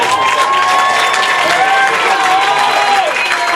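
A crowd applauds and cheers loudly after a goal ties a men's college soccer match between Stetson and Central Arkansas at 1, with steady clapping throughout and voices carrying over it.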